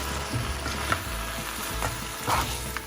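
Hot water and coconut being stirred into crab roast in a pan, a soft continuous bubbling sizzle broken by a few irregular utensil scrapes and clinks.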